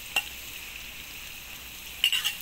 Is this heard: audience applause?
no